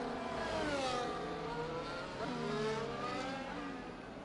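Race cars in a sim racing league event at the Abu Dhabi GP, with several engines whining and shifting pitch together as the pack passes, steady and moderately loud with no talk.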